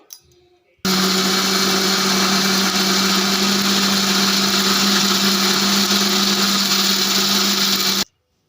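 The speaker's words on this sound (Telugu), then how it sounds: "కొన్ని వాటర్ అయితే వేసి మిక్సీ అయితే పట్టేద్దాం" A mixer grinder grinds soaked urad dal with water into idli batter, starting abruptly and running as a loud, steady motor whine for about seven seconds before cutting off, with no talking.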